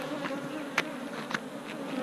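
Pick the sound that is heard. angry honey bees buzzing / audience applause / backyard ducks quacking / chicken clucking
angry honey bees buzzing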